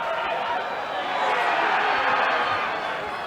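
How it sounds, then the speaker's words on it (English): Onkaparinga supporters on the far side of the field at a grand final football match against Old Collegians make a continuous, distant crowd roar that swells slightly in the middle and holds steady. "The noise that we can hear there from the Onkers crowd on the other side of the field."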